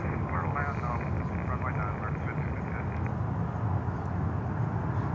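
An Airbus A330-300 passenger-to-freighter conversion on approach produces a steady, distant engine roar and rumble, with someone talking over it throughout.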